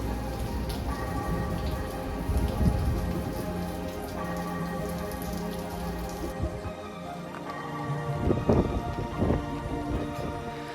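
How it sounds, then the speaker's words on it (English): Steady rain falls at night in the Outer Banks, a continuous dense patter on surfaces with occasional heavier drips and splashes nearby, holding a constant level throughout. "it was just going to be raining for the rest of the night"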